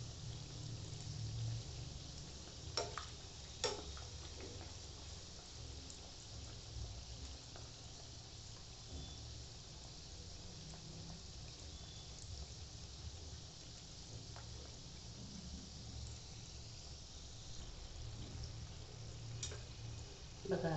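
Eggless doughnuts fry in a generous amount of hot oil, a soft, steady bubbling hiss heard faintly and up close, dotted with a few small clicks.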